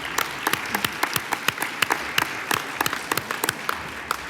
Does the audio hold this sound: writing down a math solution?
no